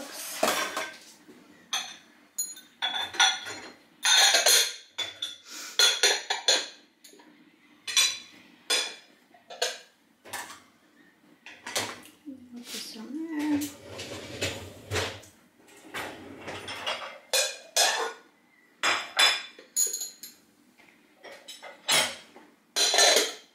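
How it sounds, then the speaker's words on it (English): Dishes and cutlery clinking and clattering as a dishwasher is unloaded at home, including Fiesta ware plates, in a steady series of close, sharp knocks and chimes with brief pauses between handfuls. "And I am going to unload the dishwasher."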